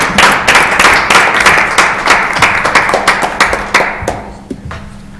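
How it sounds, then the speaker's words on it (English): Attendees at a Lockport, Illinois planning and zoning commission meeting give a round of applause, a close burst of sharp individual claps that thins out and fades to scattered last claps. "Another round of applause."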